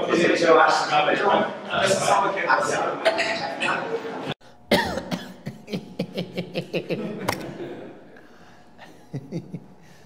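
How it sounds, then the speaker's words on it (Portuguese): A person coughs and clears their throat several times, with some chuckling and voices, followed by a series of short sharp coughs trailing off. "deu uma tosse"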